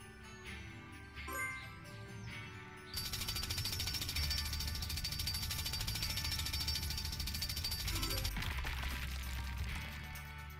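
A rapid, rattling drill grinds through rubble in the PAW Patrol Mighty Pups video game, starting after a short lead-in and running loud and continuous for several seconds before easing off.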